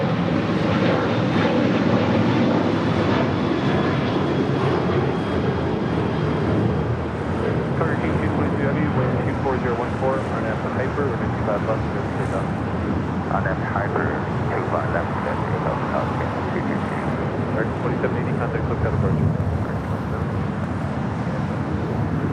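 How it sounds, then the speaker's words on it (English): An American Airlines Boeing 737-800 departing LAX for Austin, Texas makes a broad, continuous jet engine roar that stays strong for the whole stretch, with voices talking faintly underneath. "That was American Airlines flight 2780 heading to Austin, Texas in the 737-800"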